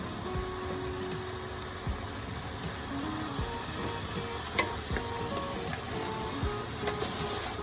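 Chicken wings and legs frying with plenty of ginger in hot oil: a steady, even sizzle with scattered small pops and crackles, close and continuous, without talk.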